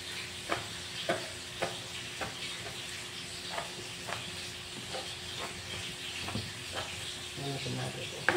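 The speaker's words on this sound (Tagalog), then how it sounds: "Pakuluan lang natin." Tilapia soup in a pot bubbling and simmering with a broad steady hiss, punctuated by repeated soft clinks and knocks of stirring, fairly close, with a brief rustle near the end.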